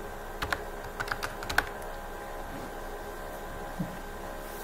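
Someone types a password on a computer keyboard in a Linux terminal: a few soft, quick keystroke clicks close by in a short burst, then a quiet pause with one faint tap, over low room hiss.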